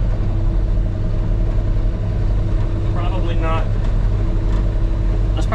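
A John Deere 5075M tractor engine drones steadily and loud while pulling a Frontier land plane over gravel on a horse farm, a constant low rumble with faint squeaky clanks partway through.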